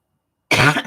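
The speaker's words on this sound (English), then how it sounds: "I'm still coughing." A single close, harsh cough bursts out after a moment of silence, followed by a short rough tail.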